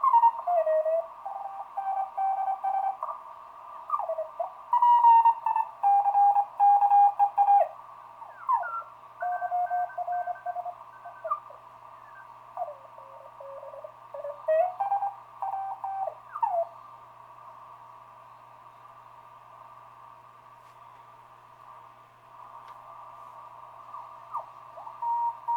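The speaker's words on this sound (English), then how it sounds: "a quick tune of the 80 meter CW band with the current AGC settings" A Heathkit HW-16 ham radio receiver is tuned across the 80 meter CW band, giving steady Morse code tones that sweep and shift in pitch, with beeping carriers coming and going over a quiet background and no talking.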